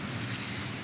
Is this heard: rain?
yes